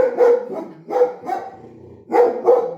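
A dog barks repeatedly at close range, several sharp loud barks in two quick bursts with a brief pause between, with no talk.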